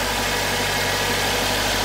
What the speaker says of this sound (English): All right, the car's running